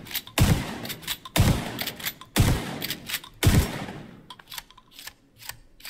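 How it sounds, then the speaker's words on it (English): A KSG shotgun fires in the video game The Division 2, with four heavy booming blasts at roughly one-second intervals, each followed by a clattering reload action and a short ringing tail, loud and close. "This is the standard KSG shotgun."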